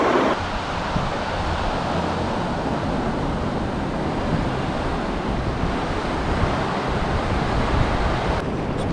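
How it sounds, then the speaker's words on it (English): Sea waves breaking on a quiet beach in La Union, Philippines, a continuous broadband wash of surf with some wind rumble on the microphone, steady and fairly loud with no voices. "all you can hear, for the most part, is the sea"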